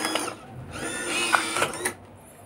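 An SM-2073RU bill acceptor pulling in a 100 ruble banknote, a close mechanical whirring of its motor and rollers lasting under two seconds with small clicks, ending in quiet.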